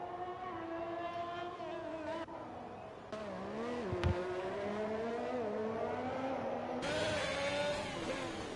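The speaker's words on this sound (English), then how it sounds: "Aguirre races to the line. Opens DRS" Race car engine in a video game qualifying lap at the Azerbaijan circuit, a loud continuous high-pitched whine that rises and falls through gear changes, close and steady throughout with no talking.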